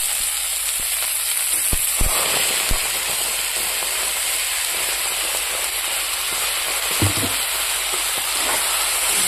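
Potatoes and cauliflower frying in oil as ground spice paste goes in, giving a loud, continuous sizzle with a few sharp clicks of the pan or utensil.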